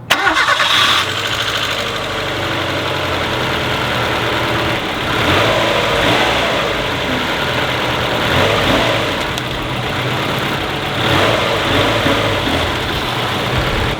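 An old Mazda 323 GT barn find, started for the first time in 27 years, cranks and catches, then settles into a steady idle with a few revs swelling and easing back, close by.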